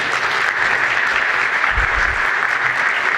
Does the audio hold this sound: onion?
no